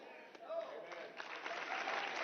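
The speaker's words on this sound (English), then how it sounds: "there's not even a lot of applause" Thin, sustained applause from a political conference crowd at CPAC, with a steady patter of scattered clapping and a voice talking over it.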